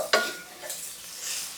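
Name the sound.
garlic sautéing in a pan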